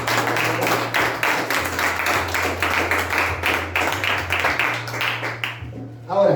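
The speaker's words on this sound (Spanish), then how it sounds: "No, pero con más fuerza, dale un aplauso" A church congregation applauds more strongly, dense clapping running nearly throughout over a steady low hum, then breaking off near the end as a voice begins.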